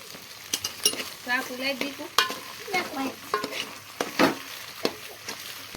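A utensil scrapes and stirs spiced pasta in a frying pan, giving irregular clacks and scrapes over a soft underlying sizzle, close and moderately loud, with no talking.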